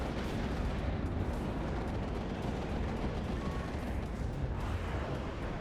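Big explosion in the WARNO real-time strategy wargame, a dense continuous boom and rumble of heavy blasts and fire sustained loudly throughout with no talking.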